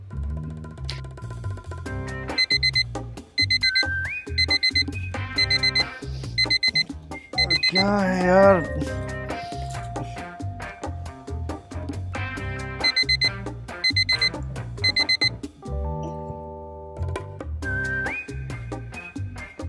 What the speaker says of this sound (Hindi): इतनी देर से अलार्म बज रहा है तूने मुझे उठाया क्यों नहीं.